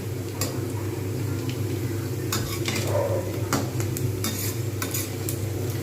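Bread pakoras fry slowly in a pan of hot oil, giving a steady close sizzle and bubbling throughout with a few faint clinks and scrapes of a utensil against the pan, and no voices.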